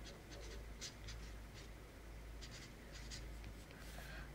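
A pen scratches across a greeting card in short, soft strokes, quiet and close with a low background hum, no talking.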